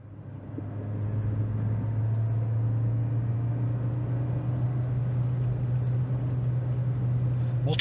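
Interior drone of a Hyundai Accent Era 1.4 petrol manual car driving, a steady low engine hum with road noise inside a poorly insulated cabin, continuous and fairly loud.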